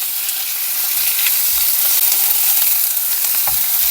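Chicken strips and onion fry in a pan on a camper van stove, a loud, steady sizzle filling the whole stretch with faint stirring scrapes, close up and without voices.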